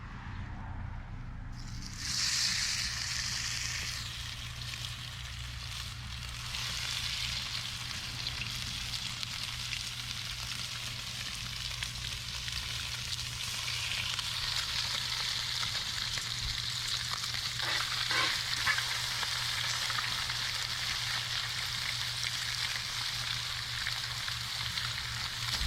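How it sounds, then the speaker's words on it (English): Fish laid into a smoking hot pan sizzles and spits in a steady broadband hiss that swells after a few seconds and holds loudly throughout, with a low hum underneath and no voices. "All right guys, you ready for the sizzle?"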